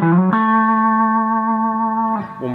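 A distorted electric guitar plays a short lick, holding one long sustained note between quick plucked notes at the start and end.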